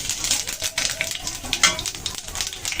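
Bay leaf, dried chilli and whole cumin tempering in hot oil, a brief loud spitting sizzle with quick crackles and a bright pop partway through, close up.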